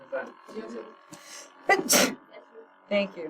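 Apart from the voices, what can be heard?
sneeze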